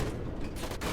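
A tank cannon fires in the War Thunder game, a single sharp blast aimed at an enemy gun barrel. It rings out with a mechanical rattle over a constant engine rumble.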